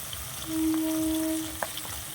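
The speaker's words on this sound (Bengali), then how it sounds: "মাছগুলো আমার ভাজা হয়ে গেছে অনেকটা" Fish frying in oil gives a steady, close sizzle with a faint crackle and a brief tonal whine partway through, moderately quiet, with no voices.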